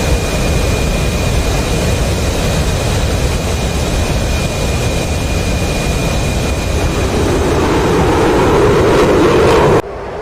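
Carrier-launched jet aircraft in the DCS flight simulator climbing away, a loud, steady engine roar and rushing air that swells slightly before cutting off abruptly near the end.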